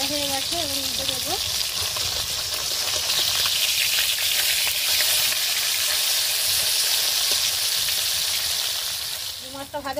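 Flipped pakal fish frying in oil, a dense continuous sizzle at close range, with brief speech at the start and again at the end.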